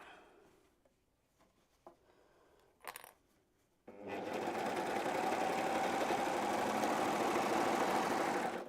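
A sewing machine stitching down the side seams of a fabric tank top, starting after a few soft clicks and handling noises and then running as a steady, loud mechanical whir for several seconds.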